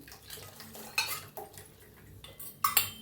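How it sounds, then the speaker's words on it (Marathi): A spoon stirring custard milk in a kadhai on the stove, with light scraping and a few sharp metallic clinks against the pan over about three seconds, no talking. "हलवतच शिजवायचं, नाहीतर लगे घट्ट होतंही"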